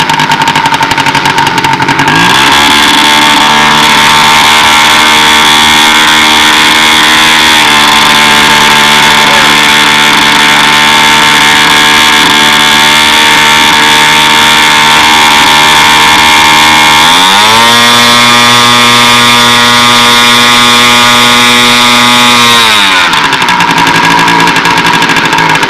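A loud, high-pitched buzzing model airplane engine at an outdoor model aviation meet, held on the ground and run at about quarter throttle, rising in pitch and settling back as the throttle changes, close and continuous.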